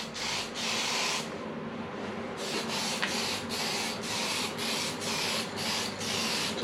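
Short hissing bursts of spray paint laying a dust coat on a damaged Nissan Skyline repeat in a quick, even rhythm, with one brief pause, close and fairly quiet.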